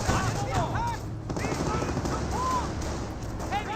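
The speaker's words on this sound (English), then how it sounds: "MG42 set on up, trying to get some good damage there onto the rifleman" Near-continuous rapid MG42 machine-gun fire rattles through a Company of Heroes battle, dense and steady under a voice, with bursts of other gunfire mixed in.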